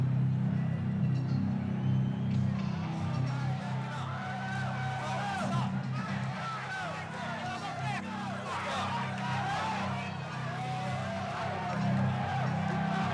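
Loud, dense arena crowd roar at a heavyweight boxing event as Mike Tyson heads toward the ring, a steady wall of cheering and shouting with a commentator talking over it throughout.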